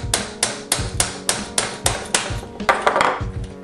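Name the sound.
small tack hammer tapping out airsoft gun pin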